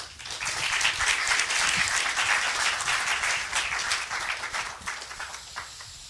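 Sustained applause from a lecture-hall audience greeting a keynote speaker at a college colloquium, dense even clapping that holds steady and then gradually thins and fades toward the end.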